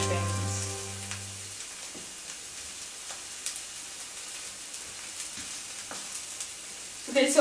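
Onions frying in a pan give a steady, fairly quiet sizzle with scattered soft stirring scrapes, a low hum at the start and a short louder clatter at the very end.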